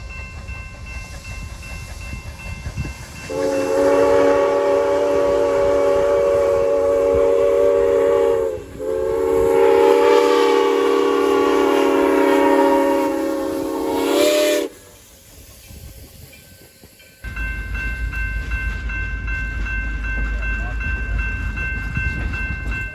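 Steam locomotive Grand Canyon Railway 4960 sounds a long, loud, multi-toned steam whistle in two drawn-out blasts, followed by hissing and rumbling as it backs down from the shops.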